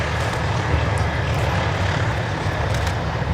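Engines of the B-17 bomber Sally B roar in a steady, loud, dense drone throughout, heard over a Duxford airshow on a Battle of Britain display day.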